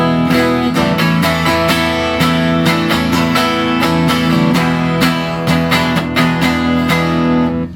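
An electric guitar on a Rickenbacker's neck pickup plays strummed chords with a warm, rounded tone, steady and loud throughout with rhythmic attacks.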